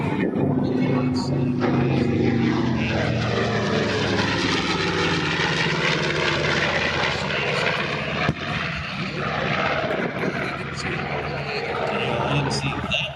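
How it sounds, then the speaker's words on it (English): Vintage propeller military warbird airplanes drone overhead at the 2025 Miramar Airshow, a loud, continuous engine roar with shifting pitch as the aircraft fly past, with people talking beneath it. "vintage military airplanes, Warbirds as we call them."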